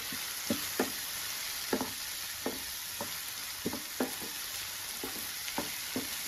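Tomatoes sizzle steadily in a hot pan for a Tamil kulambu gravy, with a continuous frying hiss and an occasional soft knock or scrape of a stirring spoon against the pan.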